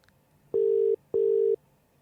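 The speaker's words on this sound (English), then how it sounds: "Now, Nelson, the phone is ringing right now." A telephone ringback tone on a call: two steady, loud electronic rings of about 0.4 seconds each, separated by a short silence, with no voices.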